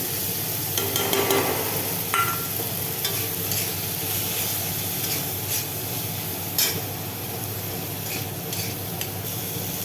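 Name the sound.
potatoes frying and being stirred in a pan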